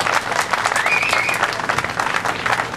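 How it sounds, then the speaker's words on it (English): Steady, close applause fills an outdoor rally crowd, dense clapping throughout with a faint cheer or whistle rising briefly in the middle. "I've got to ask us all to have a round of applause for the people from the Inlet, the staff, and Casey Trailer"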